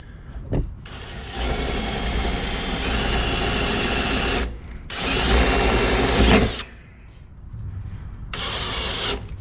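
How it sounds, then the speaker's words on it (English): A power drill bores a pilot hole in a license plate mount: two long, steady whirring runs with a short pause between, followed by a quieter third burst, close and fairly loud. "I'm going to start with a smaller drill bit as a pilot drill."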